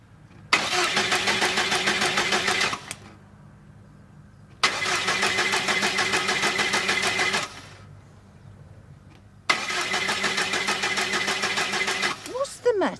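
A diesel car engine cranks in three long bursts with pauses between, each failing to catch, the starter churning loudly and evenly before cutting off.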